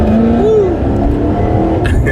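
Maserati GranTurismo MC Stradale with an X pipe, remapped ECU and Akrapovic exhaust tips, giving a loud, close exhaust roar with a quick rising rev flare early on and then a sustained rumble.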